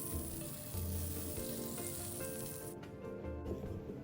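Butter sizzles in a hot non-stick pan over low heat, making a soft, even hiss that suddenly thins out near the end.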